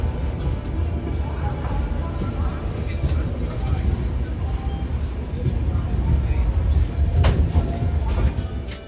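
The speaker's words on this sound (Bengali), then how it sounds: "ট্রেনটি ফাইনালি এনজিপি ঢুকছে" A train pulls into New Jalpaiguri (NJP) station with a loud, steady rumble of wheels and carriages that swells slightly toward the end, and a murmur of voices sits in the background.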